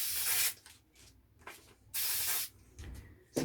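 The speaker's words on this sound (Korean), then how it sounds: "스프레이를 뿌리시고," 3M 77 adhesive spray hisses onto wood in two long, loud bursts with short quiet gaps between them, then a brief final puff at the end.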